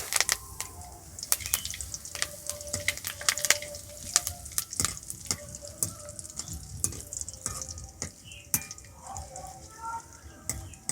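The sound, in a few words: curry leaves frying in oil after cashews and raisins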